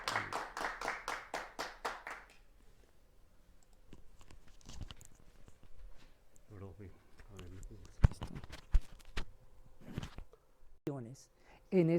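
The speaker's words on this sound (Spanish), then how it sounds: "nosotros recibimos con un aplauso a nuestros conferencistas" A lecture audience claps to welcome the speakers of a talk on an alkaline electrolyzer for hydrogen, a short burst of loud rhythmic clapping at the start that fades into scattered handling noises and voices.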